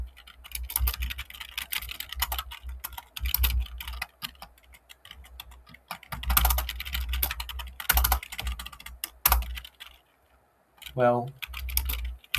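Someone types code on a computer keyboard in rapid, uneven bursts of close clicking, pausing briefly before another flurry; someone speaks a single word during a gap.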